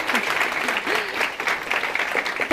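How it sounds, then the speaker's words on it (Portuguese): Studio audience applause for a parliamentary guest on a TV Câmara environment program, brisk clapping throughout with faint voices mixed in. "Palmas para ele, gente"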